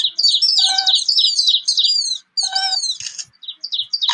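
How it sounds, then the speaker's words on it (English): Finches sing in bright, high twittering phrases and chirps, close and clear, with a short pause midway and scattered quieter notes at the end. "Do you hear the finches' songs?"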